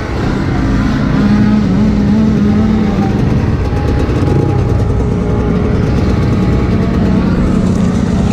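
A dirt bike engine runs steadily on a trail climb near the Delaware Water Gap, a continuous loud motor drone with slight pitch shifts throughout, no clear speech over it.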